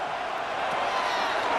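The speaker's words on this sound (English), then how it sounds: "This crowd into it now as we get to 3rd down" Stadium crowd in a Madden NFL 26 simulated Jaguars vs. Colts Wild Card game roars steadily on 3rd down, a dense, continuous wash of cheering with no break.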